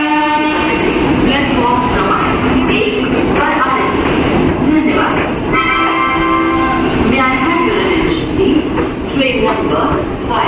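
A Rishikesh–Chandausi passenger train rolls past close by, its steady loud rumble of wheels and carriages continuous throughout, with clickety-clack rhythm and a horn-like tonal whine riding over the noise.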